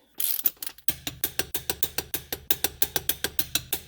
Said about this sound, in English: Set your torque wrench to 100 foot-pounds or 135 newton meters.